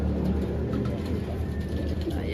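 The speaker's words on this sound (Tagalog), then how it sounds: "kasalukuyan magpapakain na nga tayo ng mga ibon natin" Pet pigeons or doves coo steadily while being fed, a continuous low murmur of soft calls close by with no talking.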